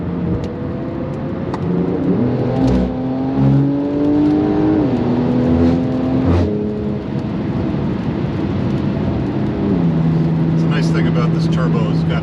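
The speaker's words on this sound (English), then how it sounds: "This turbo has got enough power to pass very quickly and safely." A 2021 Porsche 911 Turbo S engine heard from inside as it accelerates to pass, the pitch climbing through gear changes before settling into a steady drone, with voices talking over it.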